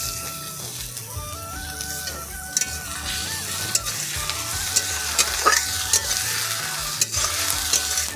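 Ginger-garlic paste frying with browned onions in a pan while being stirred: a steady, loud sizzle with scraping stir strokes and small pops throughout, no talking.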